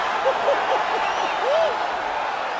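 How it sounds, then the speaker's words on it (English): An arena crowd cheering in the UFC 4 fighting video game after a fight-ending knockout, a broad steady roar of cheers and applause with a commentator's voice over it. "crowd loving it"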